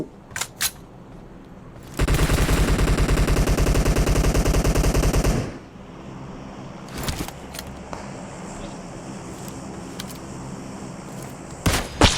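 Gunfire in the mobile battle-royale game PUBG Mobile: a loud, dense automatic burst lasting about three and a half seconds, with a few isolated single shots before and after, and no talk over it.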